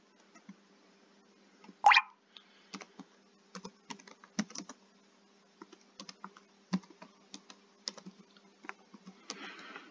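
Computer keyboard typing in a terminal: irregular bursts of quiet, close key clicks with short pauses, plus one sharper louder click near the start.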